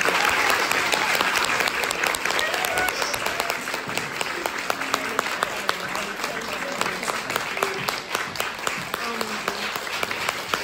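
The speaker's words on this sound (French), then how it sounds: "Je vais vous demander un tonnerre d'applaudissements pour la chance de la marque." Audience at a Paris brand event gives sustained applause, many hands clapping in a dense crackling wash with sharper individual claps standing out, steady throughout with some voices underneath.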